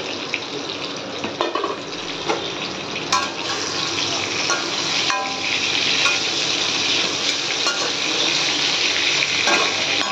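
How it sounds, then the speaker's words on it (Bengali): Pointed gourd (potol) fries steadily in a pan in a home kitchen, a dense continuous sizzle holding at an even loudness with occasional small crackles and clinks throughout. "আর এইদিকে পটল ভাজা চলছে।"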